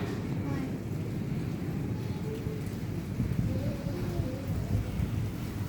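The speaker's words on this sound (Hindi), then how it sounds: "बहुत तेज बारिश हो रही है।" Heavy rain pours steadily in a strong thunderstorm outdoors near a temple, a dense, fairly soft hiss with low rumbling thunder rolling underneath.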